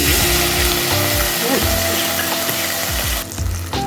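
Sauce poured into Bengali chilli bhetki frying in a pan sets off a loud, steady sizzle, with a few clattering stirs close by and a brief drop in the hiss near the end.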